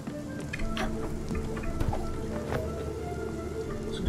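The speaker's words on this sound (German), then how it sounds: "Na, du willst Gewitter machen. Ein Gewitter." Rain from a thunderstorm in the cozy management game Spiritfarer patters steadily, with scattered droplet hits and faint tonal game effects over a continuous wash.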